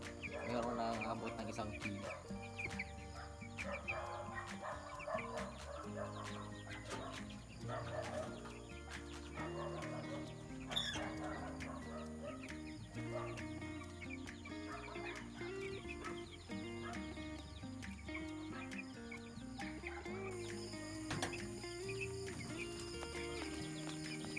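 45-day-old chickens clucking and calling continuously amid a busy, noisy background in the Philippines, with faint talk mixed in.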